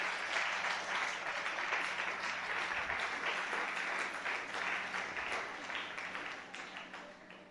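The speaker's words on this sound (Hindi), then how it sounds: "तालियां बजाकर प्रभु की महिमा करें।" A church congregation claps steadily in sustained applause during a Hindi sermon, dense and continuous, fading slightly toward the end.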